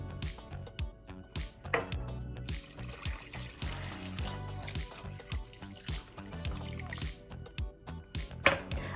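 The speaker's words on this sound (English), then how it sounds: "I'm going to place them in a pot and cover them with water" Water pours steadily into a pot over browned pork neck bones, a continuous trickling and splashing with small drips and clinks close by.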